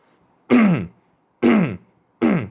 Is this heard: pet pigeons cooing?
no